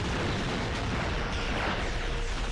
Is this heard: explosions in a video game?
yes